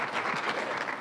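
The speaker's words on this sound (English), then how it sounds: "Nice round of applause for the mayor of St." A crowd applauds the mayor of St. Petersburg at an outdoor Grand Prix event, steady dense clapping throughout this brief burst.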